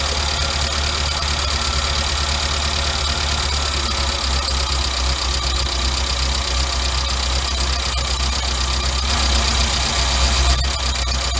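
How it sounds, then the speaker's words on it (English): A car engine fitted with a Weber carburetor idles smoothly and steadily, a loud continuous hum with a faint rhythmic knock running through it from start to finish. "See, already it's a smooth idle."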